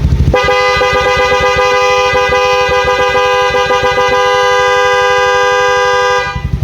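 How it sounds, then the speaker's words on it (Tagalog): A loud, steady horn blares continuously for about six seconds over a rumbling engine, then stops abruptly, on a 2015 Yamaha Mio Sporty motorcycle. "Busina po tayo mga sir."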